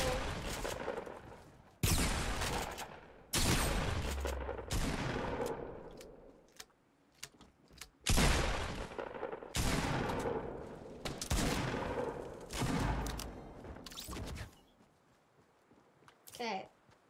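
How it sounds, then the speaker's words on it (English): Rapid bursts of gunfire from Fortnite Battle Royale, loud repeated volleys broken by short pauses, with a player talking over parts of the shooting. "Start shooting."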